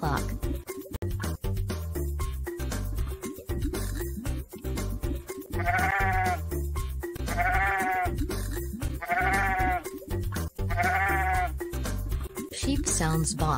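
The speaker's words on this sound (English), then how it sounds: "Sheep sounds baa." Four clear sheep bleats ring out at regular intervals over a children's sing-along tune, each a wavering baa sitting loud above the steady music.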